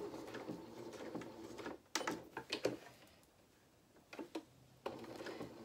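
Sewing machine stitching fabric for a toy rabbit's head and face, a quiet rapid mechanical whirr in short runs broken by pauses and small clicks, close and faint, with no speech.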